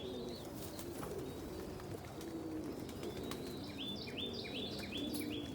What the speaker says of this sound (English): let's take a look at these birds, see how they're eating their morning salad